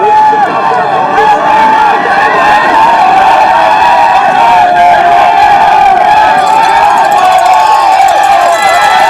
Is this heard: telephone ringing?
no